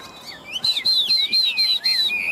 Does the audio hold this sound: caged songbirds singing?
yes